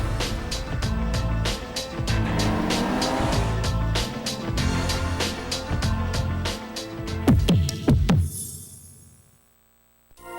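An Audi A3 roars hard under power with sharp tires squealing and skidding near the end, loud and close, before the sound cuts off to near silence.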